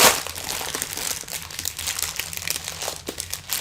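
Plastic wrap around a Lego Darth Vader's Castle instruction manual crinkling close up, a continuous rustle of crisp crackles with a few sharper snaps, alone with no talk.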